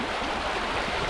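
A river flows steadily at the Crossing River campground on the Port Davey Track, a close, loud, continuous rush of water with no other sounds.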